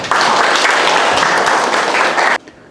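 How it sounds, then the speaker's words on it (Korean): An audience at a Confucian college lecture gives a steady, full round of applause for over two seconds, which then stops abruptly into near quiet. "박수로 보내드립니다"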